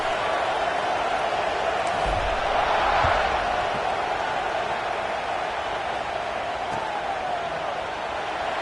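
A stadium crowd in an American football video game sends up a dense, steady roar that swells slightly in the middle and holds evenly to the end.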